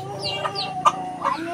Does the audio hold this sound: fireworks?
no